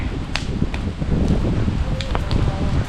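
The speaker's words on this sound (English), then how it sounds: "It's very windy all of a sudden." Steady gusty wind roars across the mic, broadband and constant, with a few faint higher clicks scattered through.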